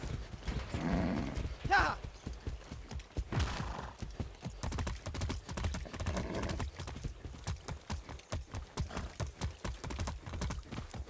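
Horse hooves clip-clop in a steady trotting rhythm throughout in the video game Far Cry 6, close and clear, while a voice exclaims briefly early on.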